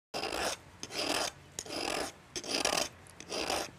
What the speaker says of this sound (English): we actually start off by filing down the shoulders